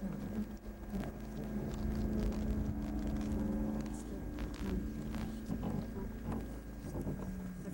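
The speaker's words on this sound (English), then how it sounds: "I just drive the boat on." A motorboat engine drones steadily as the boat pushes through dense sawgrass in a marsh, with swishing and brushing of stalks against the hull and gusts of wind noise, continuous and close throughout.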